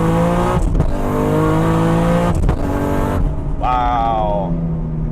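A 1,000 HP Nissan R34 GT-R accelerates hard with loud, rising engine harmonics. Gear changes are made without the clutch, and each shift shows as a sharp break before the revs climb again. Speech is faintly audible underneath.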